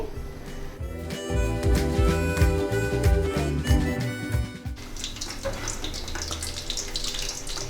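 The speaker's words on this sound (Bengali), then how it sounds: "চিংড়ি মাছগুলো তেলের মধ্যে দিয়ে দিচ্ছি।" About 100 grams of shrimp go into three tablespoons of hot oil. A bright, hissing sizzle rises close by and continues steadily after the earlier kitchen clatter, with no voices.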